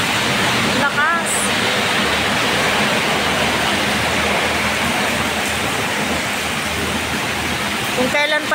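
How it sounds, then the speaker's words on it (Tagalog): Heavy rain pours down steadily in a loud, continuous broadband wash, with faint voices briefly audible near the start and end. "Kung kailan palabas na ang alaga ko, saka paumulan ng ganito kalakas."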